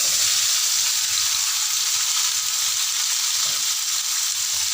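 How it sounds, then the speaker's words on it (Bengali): Paneer fries in a pan with a loud, steady, close sizzle and hiss that continues unbroken, with no voices. "আমি পনিরগুলো একটু ভেজে দিচ্ছি।"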